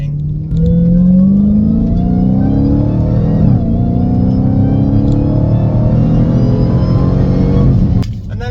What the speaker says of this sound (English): They go through the paddle shifters, it's all you hear is that supercharger whining.